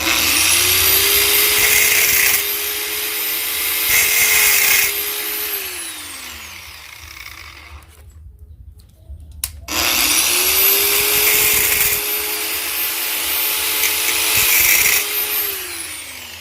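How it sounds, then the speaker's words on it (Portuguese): Power sander grinding a pyrography tip connector: a loud motor whine rises and holds for several seconds, then winds down. After a short pause a second run follows, with scraping contact sounds underneath. "E agora eu vou, né, ó, lixar aqui, ó."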